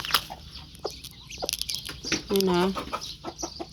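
A chicken clucks close by in short, raspy bursts, with one longer squawk near the middle, while a person talks briefly nearby.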